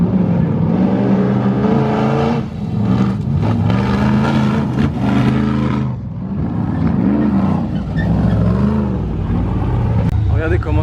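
V8 off-road buggy accelerating hard, a loud continuous engine roar that rises and falls in surges, with voices talking over it.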